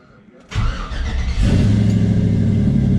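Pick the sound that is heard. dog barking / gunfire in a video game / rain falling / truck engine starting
truck engine starting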